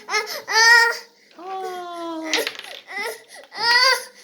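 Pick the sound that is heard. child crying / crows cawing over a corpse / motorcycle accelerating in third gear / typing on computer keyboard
child crying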